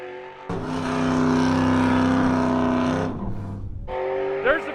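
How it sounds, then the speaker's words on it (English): A front-wheel-drive car at a low-buck car party does a burnout, its engine held at high, steady revs with tires screaming, then briefly easing off before revving again; a voice talks over the roar. "There's the front-wheel drive burnouts."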